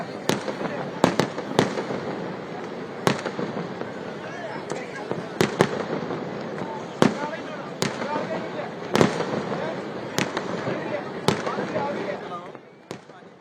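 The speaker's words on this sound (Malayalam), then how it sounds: "തൃശൂർ പൂരത്തിന്റെ സാമ്പിൾ വെടിക്കെട്ടിന് ഇപ്പോൾ തുടക്കമായിരിക്കുകയാണ്" Sample fireworks display for Thrissur Pooram, a temple festival in Kerala: a dense crackling roar with many sharp, loud bangs and booms bursting at irregular intervals, continuous and close throughout, with no clear talk.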